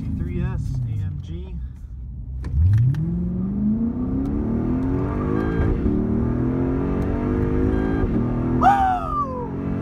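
Mercedes C63S AMG accelerating hard in a race against a Lexus ISF, its engine note climbing steadily through the gears with brief shift breaks, loud and close, with a short voice near the end.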